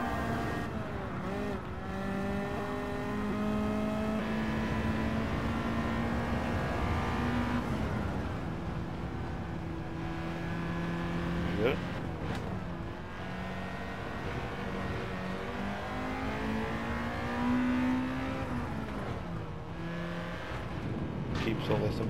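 A Honda Integra Type R DC2 in Gran Turismo 7 on the Nordschleife climbs steadily through the revs, its engine whine rising and dropping with gear changes, loud and continuous while someone talks over it.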